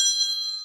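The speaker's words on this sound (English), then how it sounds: "It's sorry about my phone ringing then." A mobile phone rings with a short, bright electronic chime of steady high tones that fades out within a second, close by and alone.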